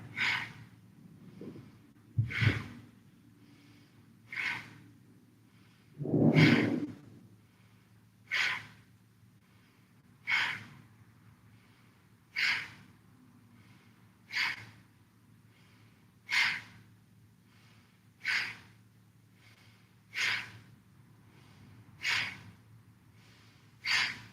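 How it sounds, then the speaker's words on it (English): Slow, deep breathing exercise: steady rhythmic inhales and exhales through the nose, about a dozen soft breath pulses evenly spaced at roughly two-second intervals, close and quiet with no talking over them. "Exhale. Breathe in."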